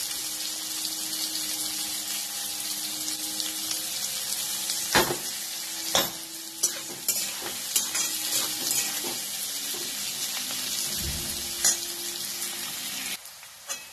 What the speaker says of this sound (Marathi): आणि आता भोपळा चांगला भाजून घ्यायचा, चांगला भाजायचा